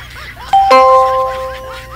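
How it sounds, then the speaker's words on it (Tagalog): A two-tone doorbell chime rings once during a live radio show, a clear ding-dong that rings out and decays over about a second and a half, fairly loud and close. "May nagdo-doorbell na"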